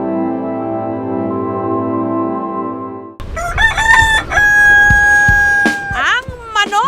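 A rooster crows loudly and close by in Masbate, Philippines, its harsh, rising cock-a-doodle-doo repeating in the second half after a stretch of music, with a voice speaking over it.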